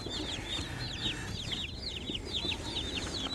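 A box of baby meat-chicken chicks peeps constantly in a quiet indoor space, with rapid high-pitched chirps overlapping in a busy, continuous chorus at low volume and no talk.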